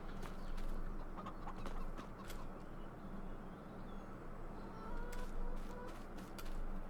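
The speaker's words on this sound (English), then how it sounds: "That's my neighbor's birds." A neighbor's birds outside chirp and cluck faintly in a distant, irregular chorus over a steady background rumble, with sharp clicks scattered through.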